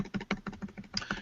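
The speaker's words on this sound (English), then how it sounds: "So I just have to start typing it." Quick, light keystrokes on a computer keyboard as a web address is typed into a browser, a fast irregular patter of faint clicks close to the microphone.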